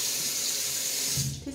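Tap water runs steadily from a faucet into a sink during face washing in a home beauty routine with fresh aloe vera, a continuous close hiss with no talking.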